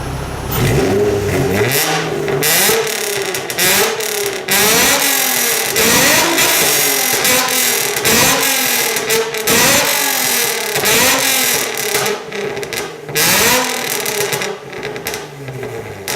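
A Nissan 350Z engine revs hard again and again in short, very loud bursts as it tries to shoot flames, with the rising and falling engine note filling the space from close by and no talk over it.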